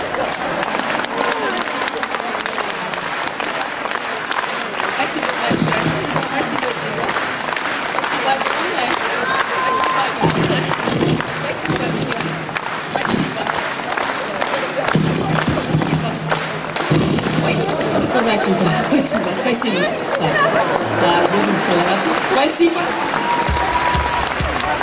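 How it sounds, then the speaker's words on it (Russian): Audience applause at a concert, a dense, steady wash of clapping that carries loudly and continuously through the whole stretch, with a presenter's voice heard over it. "Аплодисменты не отменяются."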